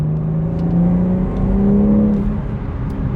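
A car engine revs under throttle, a loud close-up droning whir whose pitch climbs and dips as it pulls, with no talking over it.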